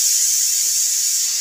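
Steam hisses steadily and fairly loudly from a pressure cooker cooking dal with a little hot water. It is a smooth, high, unbroken rush lasting the whole short moment.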